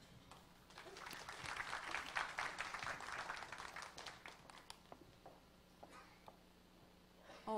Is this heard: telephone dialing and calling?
no